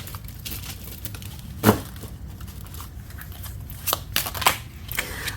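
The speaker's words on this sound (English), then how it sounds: "we're gonna live shuffle the Romantic Fairy Oracle" A Romantic Fairy Oracle card deck is shuffled live, giving soft, faint riffling and slapping bursts of cards, one sharper snap early, then a cluster of quick rustles toward the end.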